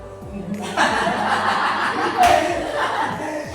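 A room of people claps briefly amid chuckles and laughter, with voices talking over it.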